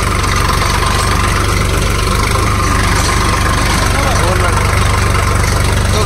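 An Ace 350 40HP tractor runs a 6-foot rotavator at a field demo in Hunagund, its diesel engine a loud, steady, close rumble with an even low throb throughout.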